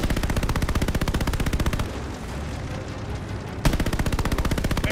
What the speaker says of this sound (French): Mitrailleuse sortie! Ne laisse pas approcher des bombardiers!